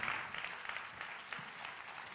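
A convention audience gives a keynote speaker on the Spanish tourism economy a short, even round of applause, soft and slightly distant, with no voices over it.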